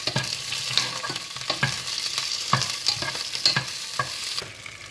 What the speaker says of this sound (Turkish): Birazcık da biberlerimizi kavuracağız.